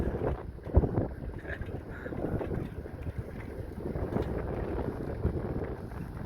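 Riding a bicycle in light drizzle and wind, a constant rough rush of wind buffets the microphone, with low gusty rumbling and no voices.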